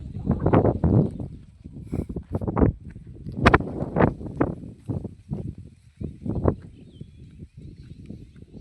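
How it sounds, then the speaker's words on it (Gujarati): Gusty wind buffets the microphone over a farm field of cotton and maize under gathering rain clouds, coming in loud, uneven rushes and thumps that fade and return throughout. "પવન આવે છે."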